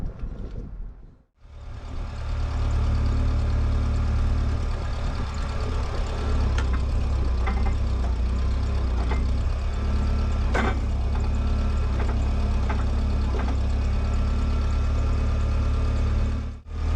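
Old forklift engine starting with a brief catch, then running at a loud, steady, low idle close by for the rest of the stretch, with faint clicks and knocks over the drone.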